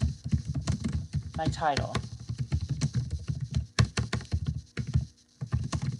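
Clicky keystrokes on a computer keyboard tapping in quick irregular runs, close by, mixed with a person talking over them.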